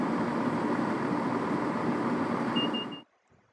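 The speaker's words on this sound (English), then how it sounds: "This is a DSD alarm." A DSD safety alarm in a Class 170 DMU train cab in Train Sim 2020 sounds as a short, high, steady electronic tone over loud, continuous rumbling train engine noise, then the cab falls almost silent.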